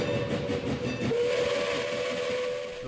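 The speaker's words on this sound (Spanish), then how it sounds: "Los trenes militares se habían acantonado en Amozoc." A steam locomotive hauling a military train blows its whistle, a sustained tonal shriek held steadily over a chuffing, rumbling rail background, fairly loud and alone without voices.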